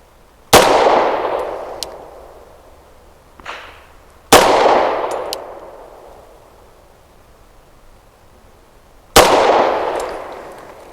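Three loud, sharp pistol shots from a Tisas B9R 1911 Carry DS firing Winchester Silver Tip 115-grain jacketed hollow points, spaced several seconds apart, each cracking and then decaying slowly, with faint clinks between.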